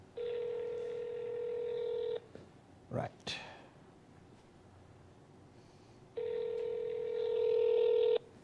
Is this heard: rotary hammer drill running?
no